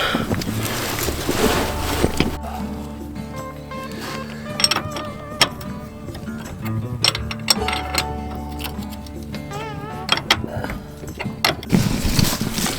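Bolts tightened on a trailer's MORryde CRE3000 suspension, with a ratcheting tool clicking in quick rhythmic bursts among metallic clinks and knocks, close and fairly loud against a steady background hum.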